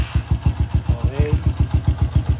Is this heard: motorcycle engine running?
yes